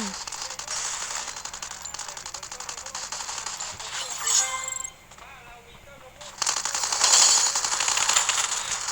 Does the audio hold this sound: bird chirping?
no